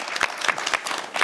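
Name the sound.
applause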